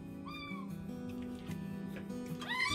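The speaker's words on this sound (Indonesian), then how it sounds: "Kaget gue, ada kucing" A cat gives a couple of drawn-out meows, close and clear, in an abandoned, decaying building of a deserted mega-project city in Lampung, with a steady low hum underneath.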